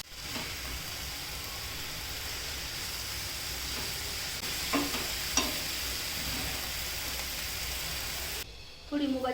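Tomatoes fry in a pan in a continuous hiss, with a few stirring scrapes partway through. Near the end the sizzle cuts out briefly and then comes back.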